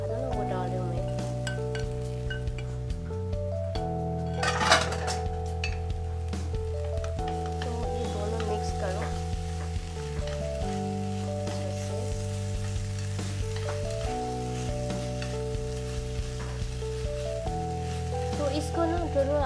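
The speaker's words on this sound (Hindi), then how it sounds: "एंड इसके ऊपर हमने जो आगे चिकन फ्राई करके रखा था ना, वो डाल रही हूँ मैं।" Previously fried chicken goes into a vegetable stir fry in a pan, sizzling steadily while utensils scrape and clink against the pan, with sustained musical tones playing underneath.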